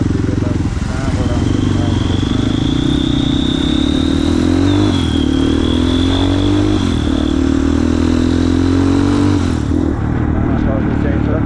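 A dirt bike motorcycle is ridden with its engine loud and close throughout, a continuous mid-pitched drone that shifts and climbs through several gear changes.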